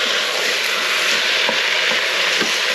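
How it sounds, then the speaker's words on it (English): Mince fries in a Cosori 5.7-litre pressure cooker, making a loud, continuous close-up sizzle with crackling spatter and a few faint knocks from stirring. "it's nice to get it up hot and then you get that sizzle"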